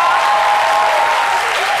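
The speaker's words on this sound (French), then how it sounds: "Applaudissements." Loud, dense applause from an audience, a steady wash of clapping that holds throughout without a break.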